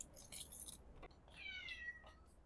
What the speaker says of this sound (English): My kitty is meowing at me.